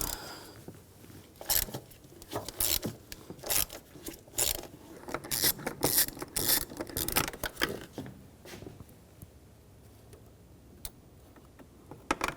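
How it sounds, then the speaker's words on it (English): A 10mm socket on a ratchet backs out a bolt during fuel pump work on a 2007-2013 BMW X5 3.0L inline-six, a close series of quick irregular ticking clicks in bursts, quieter toward the end. "Using a 10mm socket, take this bolt out."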